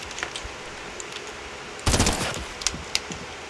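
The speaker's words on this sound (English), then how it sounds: "Hold it down, then it shoots automatically, but not that fast." Automatic gunfire in Fortnite, a short burst of shots fired in first-person mode, fairly quiet and brief, with a couple of isolated shots trailing after.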